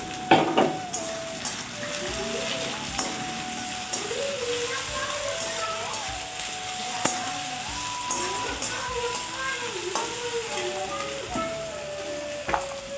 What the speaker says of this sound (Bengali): পেঁয়াজ কুচিটা দিয়ে আমি নর্মাল আছে খুব সুন্দরভাবে ভেজে নেব।